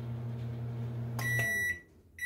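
A repaired microwave oven runs with a steady low hum, which stops and gives way to a short series of bright electronic beeps.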